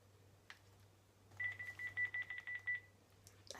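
Series of short electronic phone beeps at the end of a call, about ten quick evenly spaced tones over a low steady hum, fairly quiet and with no talking.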